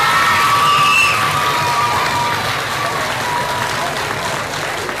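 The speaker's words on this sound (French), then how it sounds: "Applaudissez pour vous-même." Students at a school event in Yaoundé, Cameroon, clap and cheer loudly, with shouts and whoops over dense applause that fades slightly toward the end.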